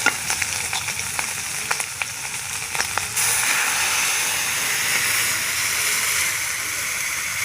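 Fried prawns crackle in a pan until water is poured in, turning the sputtering into a sudden, loud, continuous hiss of steam close by.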